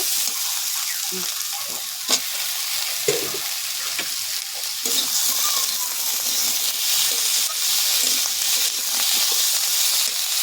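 Tomato goes into a frying tilapia curry with eggplant and potato in a pan; a constant hissing sizzle runs under sharp spatula clicks and stirring scrapes, close up and without talk.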